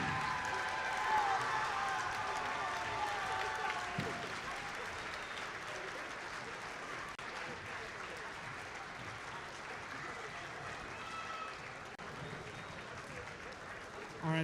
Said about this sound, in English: And for our students, I want you to give them the biggest round of applause that you can muster.